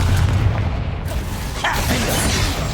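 A Confringo fire-blast spell explodes in the video game Hogwarts Legacy, a loud booming burst with a second blast midway, thick with rumbling combat noise and a voice over the mix.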